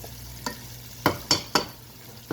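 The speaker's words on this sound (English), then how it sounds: "so it's been sauteing for about 4 minutes" Onions and garlic sauté in a pan for seafood pasta, with a soft continuous sizzle broken by four sharp scraping stirs of a utensil against the pan, the last three close together.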